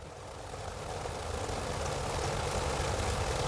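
A damaged Cessna aircraft engine in a video game drones with a steady, broadband rumble that holds at an even level throughout, with no voices.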